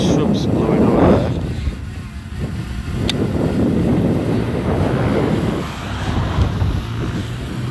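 Strong gusting wind buffets the microphone outdoors during a Potensic Atom Mini 4K drone flight, a loud continuous roar that swells and eases, with a voice speaking faintly underneath.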